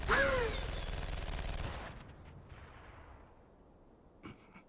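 Gunfire in an episode of the Fate/Zero anime: a loud, rapid burst of shots hits at the start, then cuts off and rings out into a fading echo, followed by a faint brief clatter near the end.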